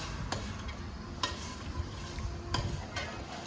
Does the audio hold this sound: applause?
no